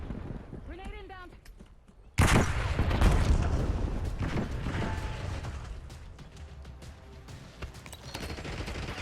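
In Call of Duty: Black Ops 6, a sudden loud grenade blast bursts after a quieter stretch with a voice, followed by rattling gunfire and battle noise fading gradually.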